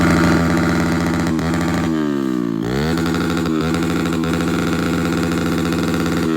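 A motorcycle that had sat unused for ten months runs steadily close by, its engine note dipping and rising through a brief throttle change midway, with no voices over it.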